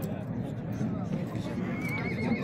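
Horses neigh amid the bustle of a livestock market. A whinny rises faintly over a crowd and people talking close by.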